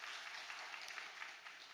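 A church congregation claps together during a Sunday morning worship service, a steady wash of applause heard from some distance and fairly faint.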